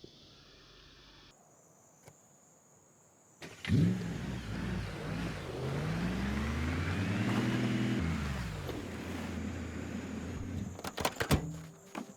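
A truck in the zombie-survival game Project Zomboid starts up with a thump and engine rise, then drives on with a steady motor hum that swells and falls as it changes speed. Some clicks come near the end, with no talk.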